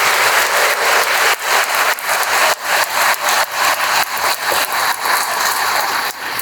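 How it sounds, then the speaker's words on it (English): Sustained audience applause fills the hall at a youth event honoring police officers, a dense steady wash of many hands clapping, loud and close, with no talking. "Let's give her a nice round of applause."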